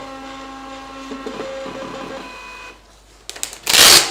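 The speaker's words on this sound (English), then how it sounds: "So the printer's really quick." A MIR Spirolab spirometer's built-in printer runs quickly, a steady mechanical whir and buzz that ends in a short burst of louder paper-feed clatter and rasp, close up with no talking.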